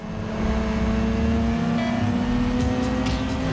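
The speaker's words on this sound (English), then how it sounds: "Why does that GTO sound like a Subaru?" A Pontiac GTO engine in the Need for Speed Underground 2 racing game, a steady droning rev under continuous game sound with a brief higher tone shift, loud and close with no talk.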